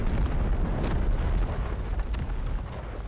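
Demi cannon artillery fires in Empire: Total War, a dense rumbling roar of booms and bursts that stays loud and heavy throughout, with no voices.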